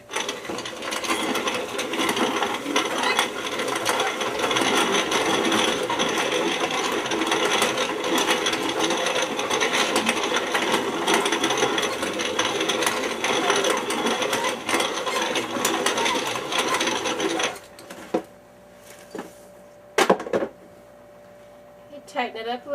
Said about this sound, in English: Tighten it up a little bit, get a better, tighter grind.